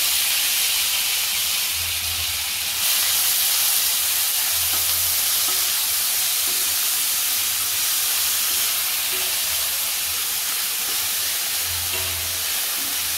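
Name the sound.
onion sautéing in oil for pithla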